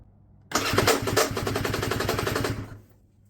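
A Kovi 300 2T PRO two-stroke motorcycle engine fires up abruptly after a quiet pause, running loud and close with rapid crackling pulses for about two seconds before dying away.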